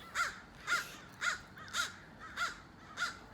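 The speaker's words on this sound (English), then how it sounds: "Sorry about those crows in the background." Crows caw outdoors, six evenly spaced harsh calls about half a second apart, moderately distant and clear with no other sounds.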